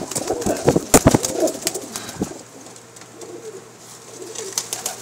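Teddy breed pigeons coo in soft, repeated throaty bursts, loudest in the first two seconds, then quieter calls continue close by.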